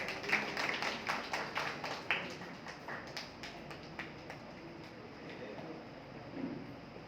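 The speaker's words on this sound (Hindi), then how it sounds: "भाई ताली बजाते रहिए।" Scattered applause from an audience at an indoor gathering, irregular hand claps of moderate loudness, busier at first and thinning out over several seconds.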